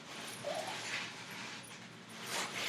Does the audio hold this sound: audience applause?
no